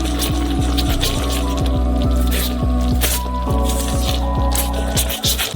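Hot pink sugar caramel, boiled on a stove with pink dye, being stirred and mixed: close, continuous wet squishing and sticky dripping with a steady rhythm of strokes, no voices.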